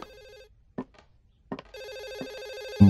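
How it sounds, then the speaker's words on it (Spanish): A telephone bell rings in a few short bursts and then rings continuously in a steady electronic warble, fairly close and clear, with no talk over it. "El teléfono."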